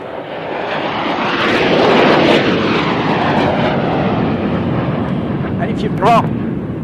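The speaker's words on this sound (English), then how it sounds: "Just trying to deafen you with the sound of these F-16s" F-16 fighter jets roar overhead in a loud, sustained, broadband rush of engine noise that builds and slowly fades, with a brief sharper whine near the end.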